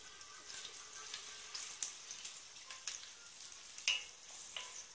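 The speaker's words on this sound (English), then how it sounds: "when it fries in the onion for a while, the onion lends it some taste" Liver frying with onion in a pan while making fried rice: a soft, steady sizzle throughout, with a few light stirring scrapes, fairly quiet and with no talking.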